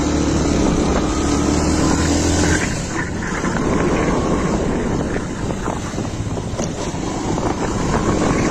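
A Hero Passion XPro motorcycle engine runs steadily after a starting-problem repair, a close, loud, continuous mechanical drone with a low tonal hum that blends into rougher broadband noise partway through.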